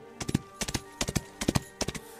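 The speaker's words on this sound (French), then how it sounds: "prend son cheval et galope" A horse galloping, rendered as a sound effect: quick clusters of three sharp hoof clops repeating in a steady rhythm, loud and close, with no talk over it.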